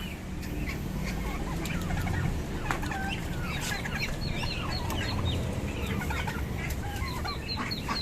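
Turkeys and ducks on a small poultry farm, a dense chorus of clucks, gobbles and chirps from many birds, some close and some farther off, continuing steadily over ambient noise.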